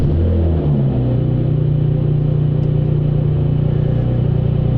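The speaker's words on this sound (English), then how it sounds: "Cold start, the engine is cold, haven't started the car in a couple of days." A cold BMW E90 with the N52 engine and a performance exhaust idles with a deep, steady droning rumble, loud and constant throughout with no revving.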